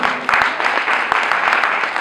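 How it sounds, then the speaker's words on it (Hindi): Audience applause at an event in Bikaner welcoming guests, a dense steady clatter of many hands clapping throughout, fairly loud and continuous with no voice over it. "आप सब तालियों से स्वागत करें।"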